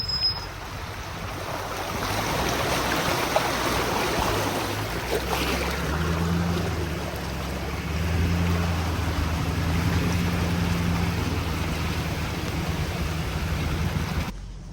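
A pickup truck with a camper drives through a deep water crossing, its engine a low steady rumble under a broad wash of splashing, churning water that swells and eases.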